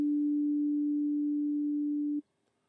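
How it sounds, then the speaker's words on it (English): A steady pure sine wave tone from a Subtractor synthesizer holds at one pitch for about two seconds, then cuts off abruptly into silence. "I'm going to stick to a simple sine wave for now."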